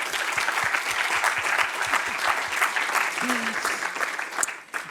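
An audience at a science-policy dialogue on water and sustainable development applauds steadily for several seconds, a dense, even wash of many hands clapping with a faint voice briefly heard.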